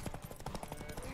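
A horse gallops in The Witcher 3 video game, a quick, rhythmic run of soft hoofbeats at moderate distance, quiet and brief.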